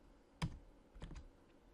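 Two separate computer keyboard key presses, a sharp single click followed by a quicker double tap, close and crisp against a quiet room.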